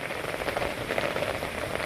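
Heavy typhoon rain from Typhoon Enting falls steadily over rice fields, a dense, even hiss of drops on surfaces with no voices.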